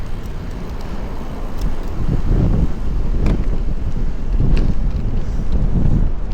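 Steady wind buffets the microphone of a cyclist preparing to descend in a continuous roar that swells louder midway, with no talking.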